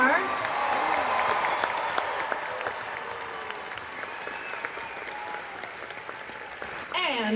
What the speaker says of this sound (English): Everyone please give a big round of applause for my bandmates